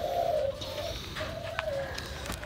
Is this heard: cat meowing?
no